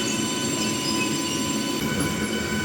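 A MEMU passenger train pulls out of Arvalli railway station, filling the space with a continuous loud rumble of wheels on rails and a thin metallic squeal, with no voices.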